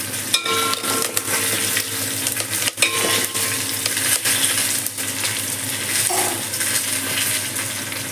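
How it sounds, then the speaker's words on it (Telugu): Mustard seeds, cumin and a few curry leaves fry in hot oil for a tempering, giving a steady, close sizzle with light crackles and occasional utensil clinks throughout. "ఇందులోకి ఆవాలు, జీలకర్ర, అదేవిధంగా కాస్త కరివేపాకు మంచిగా వేగిపోయింది."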